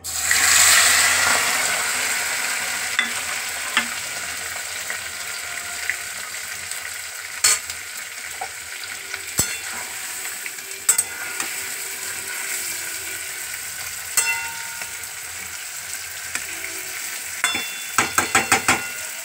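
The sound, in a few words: prawns frying in a pan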